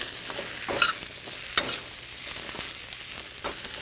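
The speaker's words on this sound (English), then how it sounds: "Now mix in very carefully all the zucchinis so that they're well coated with spice." Zucchini pieces sizzle steadily in a hot pan while a spoon stirs and scrapes through them with spices, producing intermittent clacks and scrapes over the constant frying hiss, close up with no talking.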